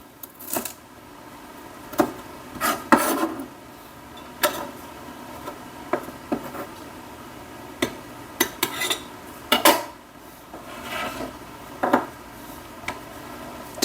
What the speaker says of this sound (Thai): รากผักชีก่อนที่จะใช้ เรามาซอยให้มันเล็ก ๆ